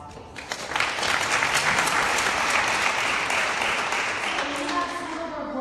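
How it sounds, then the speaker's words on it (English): Audience applause at a community celebration event, a crowd clapping warmly that swells quickly to a full, sustained roar and then slowly tapers, with a voice faintly starting up near the end. "let's also give them a round of applause, please"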